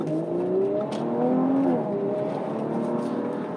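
A 2019 Audi RS5 Sportback engine hums and climbs in pitch as it accelerates through the gears, not at full throttle, a steady close drone heard from inside the car.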